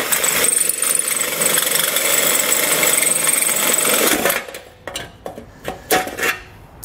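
A power tool run at high speed slices through a thin metal heat shield under a 2020 Subaru WRX, a steady loud whine for about four seconds before stopping, followed by a few scattered clanks.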